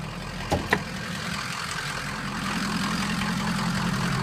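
A 2003 Ford F250 4x4 diesel truck with about 119,000 miles idles with a steady low rumble after two brief clicks near the start. The engine drone holds constant throughout and grows slightly fuller toward the end, with no voices.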